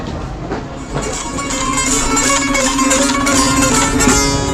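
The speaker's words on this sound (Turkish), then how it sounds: "Evet, Tahran'da metrolar." Tehran metro train running, a steady rumbling ride with a sustained hum and rail noise throughout, fairly loud and continuous, heard from inside the carriage with no talk.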